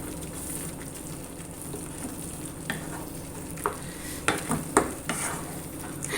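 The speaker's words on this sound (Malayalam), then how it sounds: "നല്ലോണം നന്നായി അതൊന്ന് മിക്സ് ചെയ്തെടുക്കാം" Lentil mixture stirred in a pan for a Kerala Vishu curry, a steady soft frying hiss with scattered scraping clinks of the spoon growing sharper toward the end, no talk.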